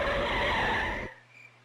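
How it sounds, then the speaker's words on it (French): Radio drama effect of a car skidding onto the road shoulder: a loud, steady rush of tire-on-gravel friction for about a second that cuts off abruptly, leaving a faint low hum. "le véhicule se déporte sur l'accotement et dérape."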